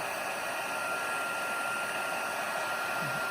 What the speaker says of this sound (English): So turn it on again and just heat that up.